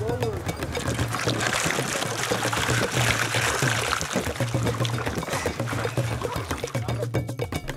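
Water pours and splashes steadily as climbers wash at Everest base camp, a continuous close-up gushing mixed with some low hum, while a voice talks over it throughout.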